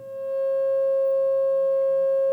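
A steady 540 Hz pure tone, smooth and unbroken, fades in and then holds at an even, moderate level for its full length with no other sound around it.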